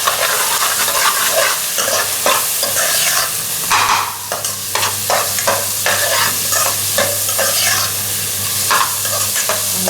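Carrots tipped into a hot frying pan and stirred, loud steady sizzling with repeated scraping and clattering strokes of a spoon, close up and with no talking.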